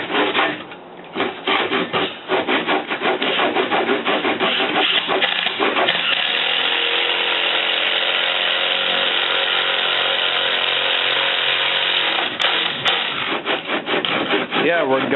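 A power drill drives screws into a plywood floor of a wooden fort being built in the woods. Loud, close whirring comes in repeated short bursts and then settles into a long steady run.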